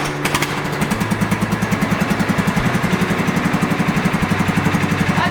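A free lawn tractor's engine starts and settles into a loud, steady, rapidly pulsing run close by, with no talk over it.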